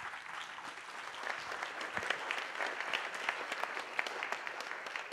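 Guests at a luncheon with APEC senior officials give a round of applause, a moderately distant, fairly quiet patter of many hands with sharper individual claps standing out, lasting throughout without any talking.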